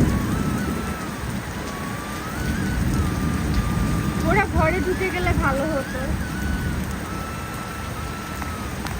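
Steady rain falls on a rural garden house yard, a constant hiss under a person talking, with a faint low rumble beneath.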